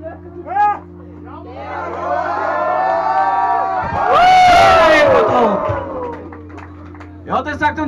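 A wrestling crowd at a hardcore match cheers and shouts continuously, swelling to a loud roar midway before settling back, with excited voices and whoops and a commentator's talk over the top.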